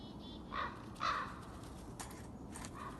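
Harsh, chattering calls from an agitated magpie, two louder bursts early on followed by fainter ones, heard at a moderate distance over steady outdoor background noise.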